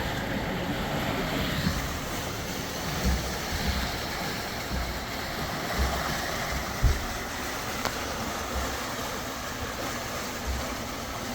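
A sailboat moves under way on open water, with steady waves, surf and wind noise washing across the microphone throughout and a few soft thumps of water against the hull; no voices are heard.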